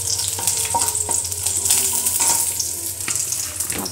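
Garlic and dried red chilies frying in oil for a dal and balloon vine dish, a steady bright sizzle with a few stirring knocks, close and loud with no talk.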